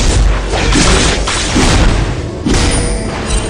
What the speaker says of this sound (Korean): 포탑을 파괴했습니다.